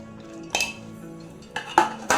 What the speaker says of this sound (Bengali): ভেজানো ওর ডালটা একটা প্রেসার কুকারের মধ্যে দিয়ে দিচ্ছি।